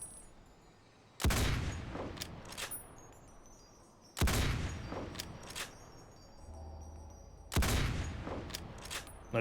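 An anti-materiel rifle fires three heavy shots in Fallout: New Vegas with the TTW mod pack, each a sharp, loud crack followed by a long rumbling decay and quieter clicks between shots.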